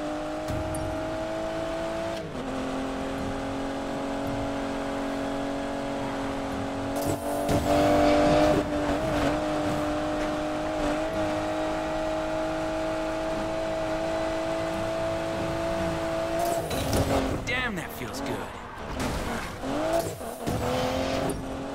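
Engine of a car in the Need for Speed Payback racing game, a sustained droning engine note that shifts pitch as it accelerates, with tire squeals and skidding bursts, loud and continuous with no talk.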